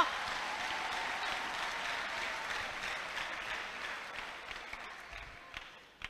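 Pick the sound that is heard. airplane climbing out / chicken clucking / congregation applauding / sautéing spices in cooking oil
congregation applauding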